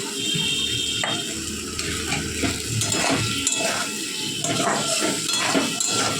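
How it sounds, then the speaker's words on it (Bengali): Dried lentil dumplings (bori) stirred into spice masala frying in a pan, a steady close sizzle with repeated scraping and clinking of a metal spoon against the pan, no voices. "এখন এই বটবটিগুলো মশলাটার মধ্যে দিয়ে দেবো"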